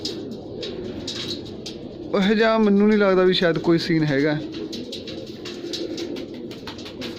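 Pigeons coo nearby in soft, rolling bursts while someone talks over them.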